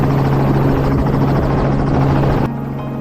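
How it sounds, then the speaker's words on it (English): Helicopters flying overhead above farmland and cornfields on aerial surveys, a loud continuous rotor thrum with a steady low drone that drops slightly in level near the end. "Helicopters appeared above the most heavily affected areas to conduct aerial surveys"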